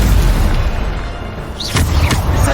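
A Bombarda spell explosion in Hogwarts Legacy, a loud booming burst over a steady rumbling bed, followed by a couple of sharper magical whooshes, with no talk.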